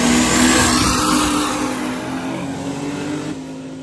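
A 2J-powered Lexus and a Fox Body car drag racing side by side in the rain at a Southeast street race, the Lexus running with a converter problem. A loud, close engine roar gradually fades as they pull away.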